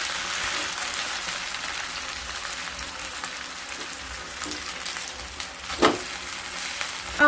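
A pan of Maggi noodles shaped into bird's nests, each holding an egg, sizzles steadily as it fries, with a brief utensil knock near the end.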